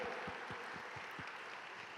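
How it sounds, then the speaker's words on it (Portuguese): A church life-group congregation claps in praise, a soft, faint wash of applause with a few distinct, evenly spaced hand claps standing out nearby, steady throughout the short stretch. "vamos dar um aplauso bem forte de louvor a Jesus"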